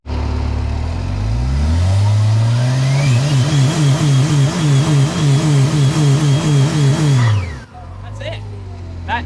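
A car engine revs hard against a tuned drag-racing bump limiter, climbing quickly then bouncing in a fast, loud stuttering rhythm at high revs for several seconds before cutting off abruptly.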